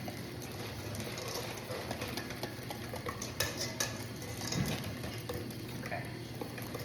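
Eggs being whisked in a bowl to temper them with warm liquid for a chocolate Napoleon filling, giving a steady, busy scraping and clinking of the whisk against the bowl that is close and continuous, with no talk.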